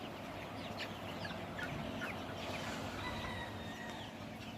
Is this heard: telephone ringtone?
no